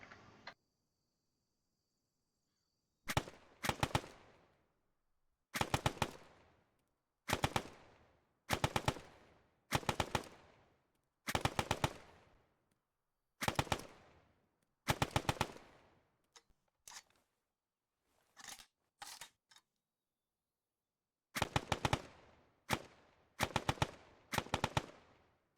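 A 9mm Parabellum submachine gun of 1938–1945 design fires in Arma 3 through a weapons mod: about a dozen loud, sharp bursts of rapid automatic fire separated by silent gaps, with a few single shots near the end.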